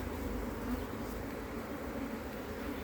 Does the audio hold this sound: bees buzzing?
yes